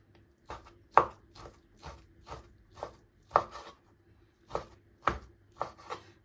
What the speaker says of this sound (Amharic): ቢላ እጃችሁን ተጠንቅቃችሁ እንደዚህ መክተፍ ነው